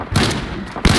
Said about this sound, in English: Oh, the shotgun.